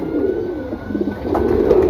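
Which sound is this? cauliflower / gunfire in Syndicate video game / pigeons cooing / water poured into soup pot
pigeons cooing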